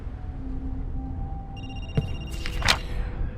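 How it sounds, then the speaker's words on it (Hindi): A phone rings in a creepy horror video game, with a few bright electronic ring tones rising out of a low ambient drone and ending in a short burst. "अब तुम्हें एक दोस्त का फोन आएगा। हाँ आ रहा है।"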